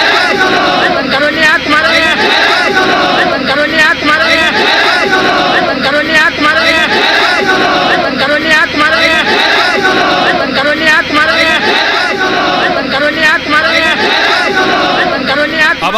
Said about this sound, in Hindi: ये भारी भीड़ जो आपको नजर आ रही है, ये थाने पहुंचे लोग विधायक के साथ।